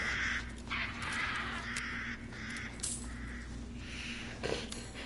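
A crow caws in the Resident Evil 8 video game, sounding as several harsh calls spread over a steady murky swamp ambience, moderately loud against the background.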